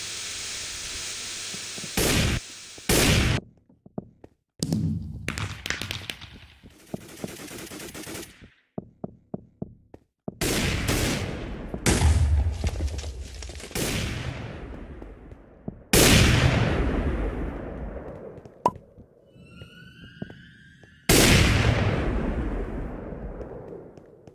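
Grenade blasts and gunfire in a Minecraft minigame shooter, with repeated loud bursts of rapid automatic fire and sharp explosions separated by brief pauses, no talking over them.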